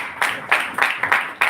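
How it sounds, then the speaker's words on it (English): Applause from a Toastmasters club audience: a few loud, close claps about every third of a second, a short sparse round rather than a dense crowd ovation. "can we have a round of applause?"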